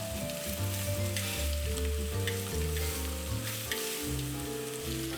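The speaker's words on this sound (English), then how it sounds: "Next step is we're going to sear the ribs. Got a pan on medium to medium-high heat." Pork ribs searing in a pan over medium-high heat, a continuous close sizzle and crackle of frying fat holding steady throughout, with no voices over it.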